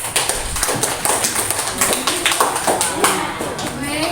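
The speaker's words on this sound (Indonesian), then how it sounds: "Ya, aplaus untuk Keisha." A classroom of students clapping for a classmate, a dense, steady patter of many hands close by, continuous and fairly loud for the whole stretch.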